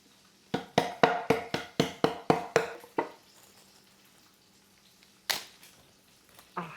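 Peppercorns being crushed in a plastic baggie, about ten sharp rhythmic pounding thuds in quick succession, then a pause and a couple more isolated knocks, close and fairly loud.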